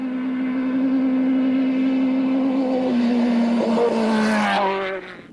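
Class 10 lightweight off-road race car at the 2008 Mint 400 desert race, its engine held at high RPM in a loud, sustained whine that climbs and then shifts pitch as it passes close by before cutting off.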